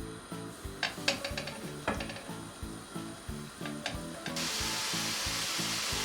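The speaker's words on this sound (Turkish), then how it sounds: "Tavamı yağsız bir şekilde güzelce ısıttım ve hemen tavuklarımı yerleştireceğim" Chicken pieces placed in a hot, dry, oil-free pan, a steady broadband sizzle swelling up in the last couple of seconds after light clattering, all over a rhythmic background beat.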